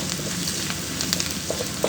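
Dried small shrimp (udang rebon), about a tablespoon, land in a hot frying pan and sizzle steadily and close, with a crackling, spattering hiss and a few sharper pops, no voices over it.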